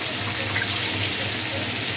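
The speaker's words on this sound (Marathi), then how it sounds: "थोडं पाण्याने धुवून घेऊ." Running tap water washes grated coconut for a fish curry, a loud steady gush of water close by without a break.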